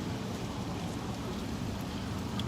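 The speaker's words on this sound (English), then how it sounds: "Yeah, a lot lighter, but it is raining." Light rain falls steadily outdoors as a soft, even hiss that carries on without a break.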